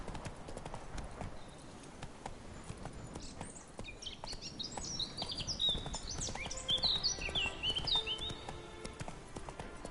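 A horse gallops in The Witcher 3, hoofbeats drumming in a steady quick rhythm while birds chirp and tweet in the background, growing busier toward the end.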